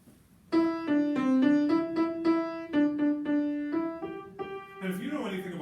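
A simple children's melody, Mary Had a Little Lamb, picked out note by note on a piano in a moderate steady rhythm, clear and close, ending in a brief blur of sound.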